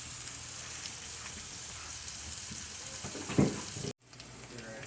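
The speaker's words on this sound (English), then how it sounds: "we have our bacon cooking down" Bacon sizzles and crackles steadily in a pan, a continuous hiss of frying fat that holds even throughout, with a brief handling clunk near the end.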